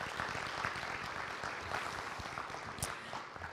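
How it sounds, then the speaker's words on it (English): Conference audience applauding to thank the behind-the-scenes staff, a steady dense wash of clapping from a crowd heard from a distance and fairly faint, with no talk over it. "joining me in a round of applause, thanking everybody behind the scenes"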